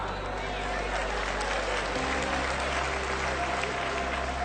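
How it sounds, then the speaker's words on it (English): An audience in a sermon hall claps on cue, a steady wash of applause lasting a few seconds over a low continuous hum. "Clap."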